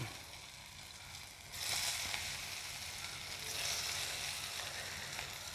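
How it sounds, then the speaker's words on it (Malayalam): Beef pieces dropped into hot oil for beef kondattam, giving a steady, fairly quiet sizzle that swells noticeably when the meat goes in and keeps hissing without any voices. "നമ്മുടെ എണ്ണ ചൂടായിട്ടുണ്ട്. ബീഫിൻ്റെ ഓരോ പീസ് ഇങ്ങനെ ഇട്ട് കൊടുക്കാം."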